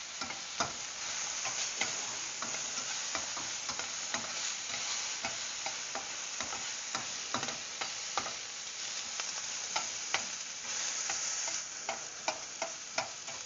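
Food sears in a hot pan, giving a steady, fairly quiet sizzle broken by frequent small pops and scraping ticks, close by and with no talking.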